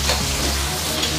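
Pickled chilies sizzle and crackle in hot oil in a wok while being stir-fried with ginger, spices, doubanjiang and hotpot base, a steady close frying hiss with no talk.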